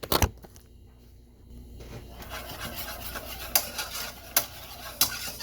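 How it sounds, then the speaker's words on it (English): A whisk scraping and rubbing around a pan of gravy made from pan drippings, a continuous close rasping with sharper clinks against the pan near the end. "I still have a little bit more whisking to do to get it smooth."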